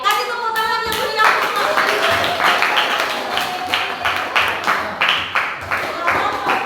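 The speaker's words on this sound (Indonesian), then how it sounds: "Kasih tepuk tangan yang meriah." Classroom applause as student group 5 comes forward to present: sharp, close, uneven hand claps from a small group of students, loud at first and then settling into a rhythmic pattern, with a voice briefly audible near the start.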